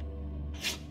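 A single short sneeze bursts out after a moment of low, steady hum. It is brief and breathy and sits close to the listener.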